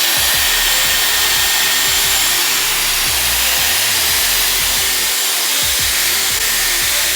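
A Dyson Airwrap hair styler blows air right next to the listener in a loud, constant rushing roar that holds steady the whole time, with faint fluttering shifts as it moves through hair.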